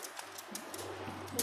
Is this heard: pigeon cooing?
yes